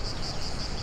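Cicadas chirp in a steady, unbroken high buzz that holds at an even level throughout, with no voices over it.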